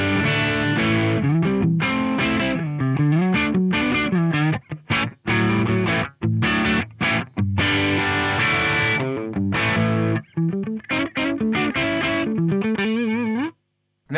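Electric guitar through an FM3 Dirty Shirley amp model set at edge of breakup, a slightly dirty clean tone playing a continuous phrase of chords and single notes that stops briefly near the end.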